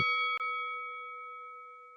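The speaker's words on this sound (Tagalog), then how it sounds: "huwag kalimutan na pindutin ang notification bell" A single bright notification ding rings out, followed by a second quick chime, leaving a clear tone that slowly fades away.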